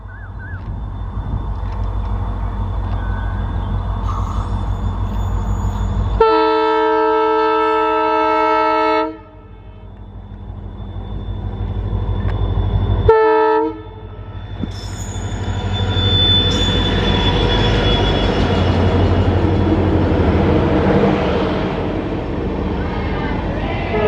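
The Tambaram-Rameswaram Express, hauled by WDP4D diesel locomotives, runs on the New Pamban Bridge with a low steady rumble, a long loud horn blast and a second shorter one, and wheel squeal rising later.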